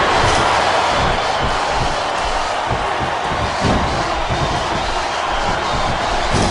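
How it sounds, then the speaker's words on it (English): A capacity crowd roars in a wrestling arena, loud sustained cheering and shouting with a steady dense wash of noise throughout. "It sounds like this capacity crowd has something on their minds."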